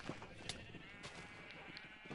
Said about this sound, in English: Can we get rid of these sheep?